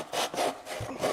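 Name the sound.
hobby saw sawing wood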